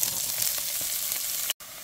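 Garlic cloves and finely chopped onion with onion stems sizzling in a casserole pan, a steady close frying hiss with faint crackles, then a brief cut to silence near the end.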